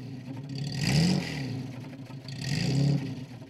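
A vintage Jaguar Sportster sports car with a 135 mph top speed revs twice, each rev a rising and falling engine swell, near and fairly loud, with no voices.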